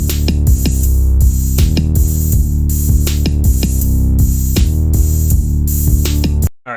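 A programmed hip-hop beat plays steadily and loud, with punchy kicks, snappy snares and a deep sustained bass, looping without vocals before cutting off at the end.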